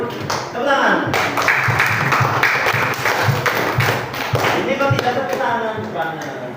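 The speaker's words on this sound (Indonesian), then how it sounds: "Tepuk tangan." Students clap in a classroom after a correct answer in an Islamic history lesson, a few seconds of close, uneven hand claps with voices mixed in.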